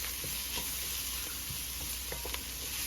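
Garlic sizzling in hot oil in a pan, stirred with a utensil, with a steady bright hiss and a few soft scraping taps throughout.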